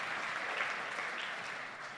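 Audience applause at the State of the Judiciary Address, a steady dense wash of clapping from a large room that holds evenly for two seconds with no voices over it.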